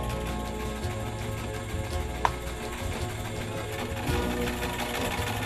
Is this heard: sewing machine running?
yes